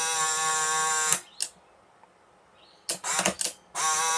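Polaroid SX-70 Alpha camera with its electric eye partly blocked, firing its shutter over and over: a dense, fast mechanical whirring buzz that stops abruptly, a few sharp clicks and short bursts in the pause, then the rapid buzzing starts up again.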